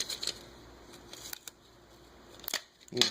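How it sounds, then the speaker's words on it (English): Scissors snip through a sheet of color gel in a few separate, crisp cuts spaced apart, close up against a quiet background. "So just cut along the clear parts."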